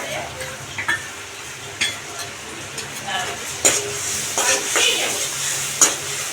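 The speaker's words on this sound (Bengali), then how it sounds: "পেঁয়াজ কুচি দিলাম, শুকনো লঙ্কা আর হচ্ছে রসুনের পেস্টটা দিয়ে দিলাম" Chopped onion, dried red chilli and garlic paste fry in a pan for chilli chicken: a lively, steady sizzle carries repeated clinks and scrapes of a spatula stirring, some louder knocks standing out close by.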